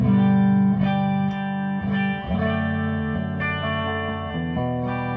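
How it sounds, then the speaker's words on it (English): An electric guitar played clean through a 1970 Fender Deluxe Reverb amp rings out in sustained, bright chords with a touch of reverb, loud and close, and no one speaks. "By itself is just a Fender amp with the guitar itself."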